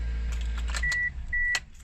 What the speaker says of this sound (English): starts the car